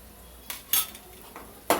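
A metal spoon scrapes and clinks against a pan while ginger garlic paste is stirred into fried onions for a tindora fry curry, giving a few sharp, close knocks spread over a couple of seconds.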